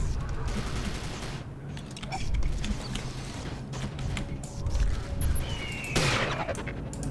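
Gunfire in the shooter video game Prey (2006), dense bursts of shots and mechanical clatter running continuously at fairly close range, with a louder burst near the end.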